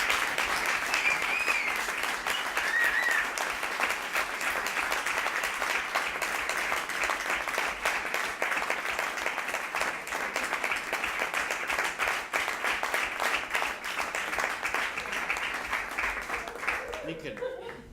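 Audience applause fills the hall at an awards ceremony in Urretxu, a dense, continuous clatter of many hands sustained at a steady level throughout, with a few voices faintly heard beneath it.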